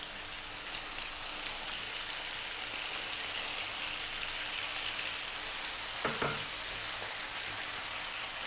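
Lamb pieces for rogan josh fry in a pan with a dense, steady sizzle close by, continuous throughout with a brief clatter of stirring near the end.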